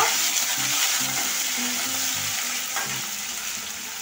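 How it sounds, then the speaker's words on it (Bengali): Boiled potatoes fry with soybean masala in a pan, giving a continuous sizzle with occasional stirring under light background music. "আলু দিয়ে দিলাম। এটা একটু ভেজে নেব।"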